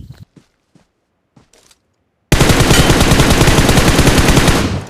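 Sustained rapid automatic gunfire in BGMI on the Livik map, loud and continuous after a few quiet footstep-like taps, knocking down an enemy lying in a house.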